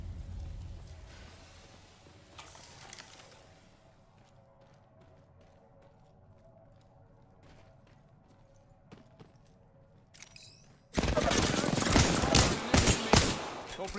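Sustained burst of rapid automatic gunfire in a squad-based battle royale duos match erupts loudly after a quiet stretch with scattered faint clicks and steps, continuing densely to the end.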